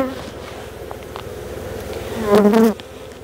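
Honeybees hum steadily around an opened hive on the Mediterranean coast, a close, continuous low drone with individual bees buzzing past, one swelling loudly near the microphone before it fades.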